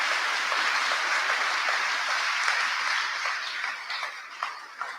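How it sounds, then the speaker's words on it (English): Sustained applause from a conference session audience, dense and even, slowly thinning toward the end with a few scattered claps. "give Rita a round of applause"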